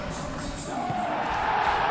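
A stadium crowd in the football game PES 21, during a simulated Brighton vs Manchester United Premier League match: a steady roaring, swelling cheer that builds slightly over two seconds, with no break.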